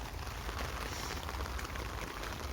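Steady rain falls at a carp fishing lake, a dense continuous hiss of drops on surfaces with no voices.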